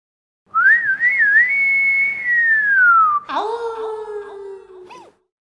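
A person whistles in imitation of a flirtatious wolf whistle, a wavering rising tone held for about three seconds, followed by a second sliding whistle with a breathy, moaning quality, loud and close with no talk.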